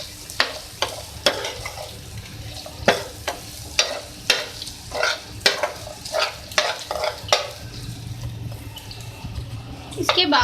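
Fried okra being stirred in a pan for Hyderabadi fry bhindi, with a regular series of sharp scraping and tapping strokes from the spoon over a soft sizzle and no talk.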